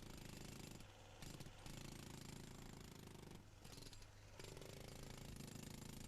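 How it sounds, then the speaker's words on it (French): A jackhammer chips poor-quality concrete off the head of a foundation pile, hammering loudly and continuously with rapid pounding bursts and two brief pauses, close by and with no talk. "Le recépage est effectué avec le marteau-piqueur."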